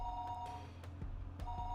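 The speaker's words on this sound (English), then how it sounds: "the phone continued its incessant ringing" A telephone rings on and on within the Higurashi When They Cry video game, a steady electronic tone with brief clicks and bumps over a low background hum.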